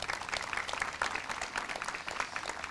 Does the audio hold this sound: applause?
yes